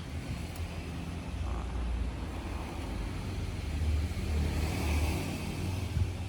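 Steady low car engine idle drones close by throughout, a moderately loud rumble with no voices over it.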